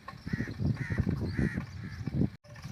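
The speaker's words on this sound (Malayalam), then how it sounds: "ഇവിടെ നിറയെ കാക്കകൾ ഉണ്ട് കേട്ടോ" Several crows caw repeatedly nearby at a seaside park on Kalba Corniche, harsh rhythmic calls overlapping one another, loud and continuous before a brief cut.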